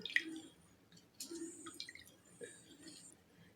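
Juice from half a lemon squeezed into a pot holding a glass of water, heard as a few faint, quiet drips and small splashes spread across a near-silent background.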